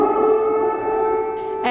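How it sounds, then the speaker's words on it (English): Air raid siren wailing in Kyiv, a steady sustained tone held loud throughout, with a brief noisy burst near the end. "Air raid sirens."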